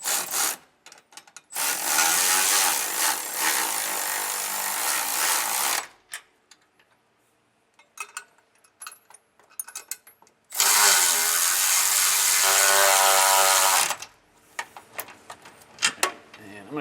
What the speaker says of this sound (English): I'm gonna snug these down. I'm using a 9/16 wrench and socket.